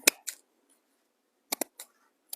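Scissors snip craft material for a rustic winter gnome with a fur hat and jute beard: a few crisp, close cuts in two short bursts separated by quiet.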